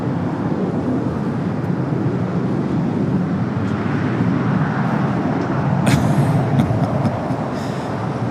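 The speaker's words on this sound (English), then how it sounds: "As we wait for that Frontier A320neo to start its roll down to 25 right." An Airbus A320neo operated by Frontier begins its takeoff roll on runway 25 right at Los Angeles airport, a broad steady jet roar holding loud throughout and swelling slightly near the end.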